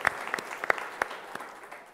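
Scattered, sparse clapping from a small congregation at a Sunday morning Mass, a few uneven claps fading out quickly in a reverberant church.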